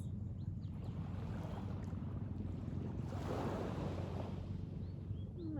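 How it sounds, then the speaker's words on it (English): Steady ocean surf and wind on a beach at Ko Samui, Thailand, a continuous rushing wash with a slightly stronger wave surge midway, gusty breeze noise on the microphone throughout. "working with the flow around you, whether it be the waves or the wind"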